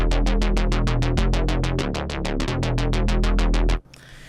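Wavetable bass arp synth, compressed and EQ'd, firing a fast, even run of about twenty bright plucked notes over a sustained low bass, loud and alone, then cutting off abruptly near the end.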